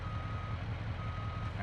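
A tow truck reversing in BeamNG Drive gives a steady, rapid series of electronic backup beeps over a low engine rumble, loud and close with no talking.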